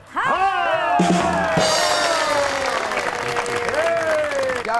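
An audience applauds as guests are introduced at a comedy show. A steady wash of clapping sits beneath a loud, drawn-out voice that dominates throughout.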